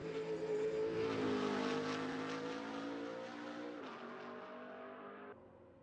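BMW Z4 race car at Sebring International Raceway, its engine loud and near, revving high and then rising through gears before dropping away sharply at the end.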